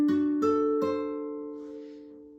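Guitar chord from a chord cascade exercise, three notes struck one after another about half a second apart, each ringing on and blending into a sustained chord that fades out, clean and close with no talk.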